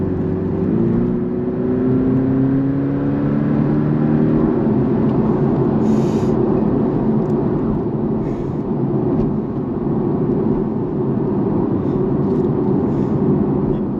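A Porsche 718 Cayman (982) with its mid-engine behind the cabin, heard from inside as a steady, loud engine drone with rising harmonic tones under acceleration, continuous throughout without talk.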